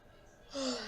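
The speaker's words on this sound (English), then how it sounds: "I can't stop yawning" One close, fairly quiet yawn: a breathy intake swells into a drawn-out, voiced exhale.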